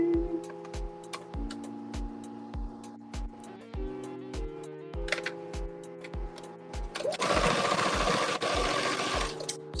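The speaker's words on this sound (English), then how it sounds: "we're going to turn our hem under for our sleeve and stitch it." A sewing machine stitches a turned-under sleeve hem in quick, steady runs of close mechanical clatter, with brief stops between runs and a louder whirring stretch near the end over soft background music.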